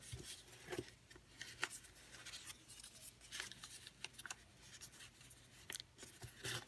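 Origami paper is creased and folded while making a parrot, giving faint, close rustles and crisp little crinkles in an irregular rhythm with no talking.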